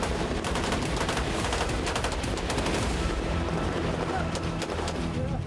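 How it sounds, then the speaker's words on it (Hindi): Rapid, continuous bursts of Russian anti-aircraft gunfire rattle without a break, mixed with dull booming explosions in the sky in a loud, chaotic barrage. "इस दौरान लगातार रूस के एयर डिफेंस एक्टिव रहे और आसमान में धमाके होते रहे।"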